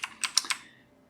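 Four quick clicks of typing on a computer keyboard, close and fairly quiet, followed by a brief quiet tail.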